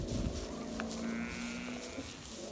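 Sheep and a ram bleat on a farm with a donkey nearby, one drawn-out low call carrying through soft outdoor ambience at moderate distance.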